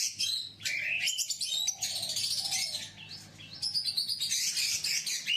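An albino pigeon pair chirps nearby in quick, high, overlapping bursts that continue with short pauses, alongside faint low cooing and no speech.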